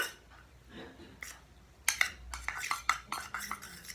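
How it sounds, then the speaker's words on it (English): A hair oil treatment is mixed in a small bowl, quiet at first, then a quick run of close clinking and scraping strokes of a spoon against the bowl, uneven and rapid, with no talking. "Then what you have to do, mix it really well."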